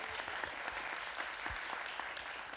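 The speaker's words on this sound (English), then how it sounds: "Give him a nice round of applause." Applause from an audience at a library author talk with a Lego master, a steady moderate round of clapping throughout, heard from within the room.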